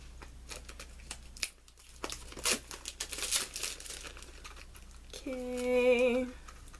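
A non-X-Acto craft blade cuts open the plastic and cardboard packaging of a Hatchimals toy, producing close, crinkling and tearing sounds in short irregular bursts, ending with a brief tonal chirp.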